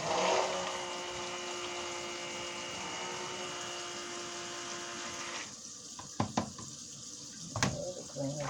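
A tap runs steadily into a sink while soapmaking gear is rinsed, a continuous close hiss of water that stops partway through and is followed by a few clanks and knocks.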